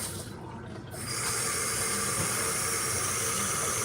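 Cold water from a kitchen tap pours into a container in a steady, close hiss that starts after a brief quiet moment and runs on unbroken.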